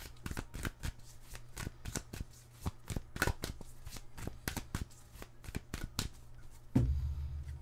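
Tarot cards shuffled and cut by hand, a string of crisp riffling snaps and taps at an uneven rhythm, close and fairly quiet, ending with a duller thump as the deck is set down.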